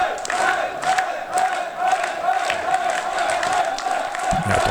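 A wrestling crowd at an AURORA Wrestling event cheers and shouts encouragement in a loud, sustained roar, with whoops and rising swells of voices throughout.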